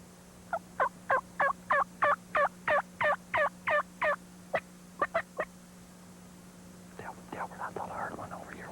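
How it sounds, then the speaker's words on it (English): A wild turkey gobbler calls in a spring woodland, a series of about fifteen sharp, evenly spaced gobble notes at moderate distance over a steady hum, followed by faint whispering voices. "that old turkey gobbler"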